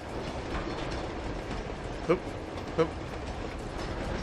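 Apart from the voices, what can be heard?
train moving in the video game Uncharted 2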